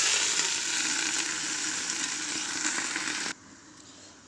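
Chech bhaji leafy greens dropped into oil with reddish-browned onions, giving a loud, steady hiss of frying that cuts off abruptly to a quiet background near the end.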